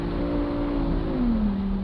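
A Lamborghini Huracan EVO RWD engine revs loudly and continuously, its pitch sliding down as the car eases off, a close, dense mechanical roar with no talking.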